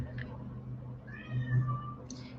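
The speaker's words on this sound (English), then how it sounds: "if you hear a cat, that is my cat meowing" A cat meows once, a drawn-out rising and falling cry close by, over a low steady hum.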